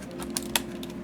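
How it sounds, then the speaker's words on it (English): Two sharp, close slaps on a computer keyboard about two-tenths of a second apart, standing out over a steady low hum, with a few lighter clicks around them. "Smacking the keyboard."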